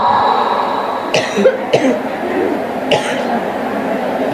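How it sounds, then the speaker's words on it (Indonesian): A few sharp coughs, three bursts spread over a few seconds, close by over a steady background hum. "Ini saya teriak-teriak sampai batuk nih,"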